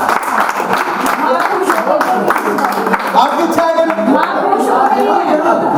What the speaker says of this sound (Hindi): आप एक बार तालियां बजाओ इस बार।